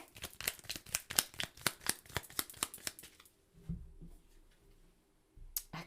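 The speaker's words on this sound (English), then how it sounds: "So let's pull a clarifying card for the Seven of Wands" Tarot cards riffle-shuffled in a quick run of crisp, evenly spaced flutters, then a few softer taps and slides as a card is pulled and laid down, close and alone.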